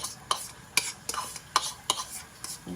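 A spoon stirs a corned beef sauté in a pan for beef shawarma: quiet, close scrapes and light clinks in a loose rhythm of about six strokes.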